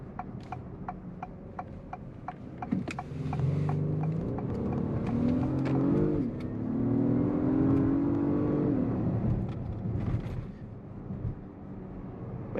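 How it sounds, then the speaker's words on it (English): The 2022 Acura MDX Type S engine revs up under hard acceleration, a rising, fairly muted growl that swells for several seconds between quieter stretches with ticking from inside the cabin. "Engine's a little muted."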